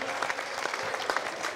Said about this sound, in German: Applaus für alle Trainer.